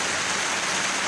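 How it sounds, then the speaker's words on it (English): Hard, steady rain falls outdoors during a car body repair, a dense continuous hiss with no gaps and no voices. "So it's raining pretty hard here"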